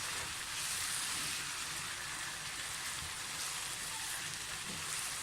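Spices frying in a pan for Kashmiri chicken qorma: a steady, soft crackling sizzle, faint and even, hissing without pause and without voices.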